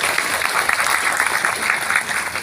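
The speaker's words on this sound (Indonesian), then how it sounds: "Tepuk tangan yang meriah buat Khalid." Crowd applauding at a large open-air Islamic religious gathering in Aceh Tamiang, a steady wash of clapping from many hands that holds loud and even for the short stretch.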